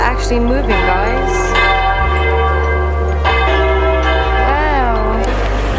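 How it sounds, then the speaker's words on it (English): Large church bell in Madrid swinging overhead, pealing loud and near with heavy strikes roughly once a second and long droning resonance between them, a few wavering bird or voice-like sounds drifting over the top. "Bell's actually moving, guys."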